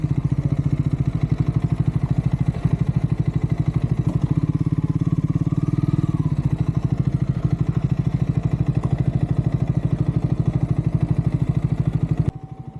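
A TVS Jupiter scooter is ridden along the Maredumilli ghat road, its engine putting steadily and close with a rapid, even pulse that briefly swells midway and cuts off near the end.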